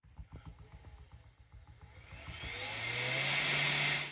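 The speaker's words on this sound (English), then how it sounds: "When starting the printer's part cooling fan, it takes a moment to get it up to speed." A 3D printer's part cooling fan spins up from rest, a rising whir that swells into a loud steady rush of air, following a stretch of the printer's rhythmic stepper-motor ticking.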